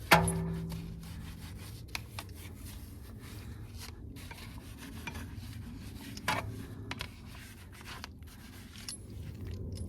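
A small detailing brush scrubs around the lug nuts of a car wheel rim, giving quiet, irregular scratching and rubbing strokes with occasional light clacks against the metal, close up and alone.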